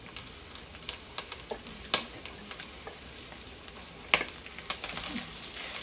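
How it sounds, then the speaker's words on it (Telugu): Chopped capsicum fries in a pan for drumstick curry, a soft steady sizzle broken by scattered scrapes and taps of stirring. No one talks. "క్యాప్సికమ్ ఫ్రై చేయాలి."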